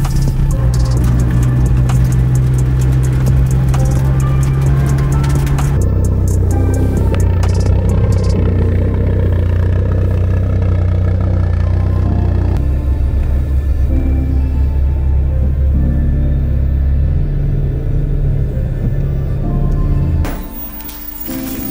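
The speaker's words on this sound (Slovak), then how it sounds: "Teraz akorát sedím v Golfe. Mal som ho trošičku zohrať. No a valím rovno ku Tomášovi" VW Golf Mk2 being driven, heard from inside the car as a loud, steady engine drone and road rumble that shifts with gear changes, with rattles and clatter throughout.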